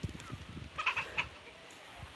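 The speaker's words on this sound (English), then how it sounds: "I love the sounds that turkeys make." Wild turkeys call outdoors in a short burst of a few clucking, gobbling notes at moderate distance, with low rustling and handling noise around them and quiet afterward.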